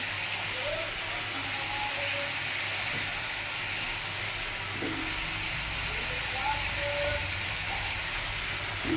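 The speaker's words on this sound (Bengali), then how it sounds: "আলুগুলো ভেজে নিচ্ছি" Potatoes fry in oil in a kadai, giving a continuous, dense hiss of sizzling that stays constant and close, with faint brief tonal sounds now and then in the background.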